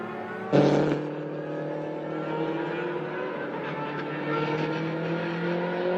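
A race car at a time-attack event runs on the track, its engine a sustained harmonic drone that swells after a sharp burst near the start, staying loud and fairly close with no talk.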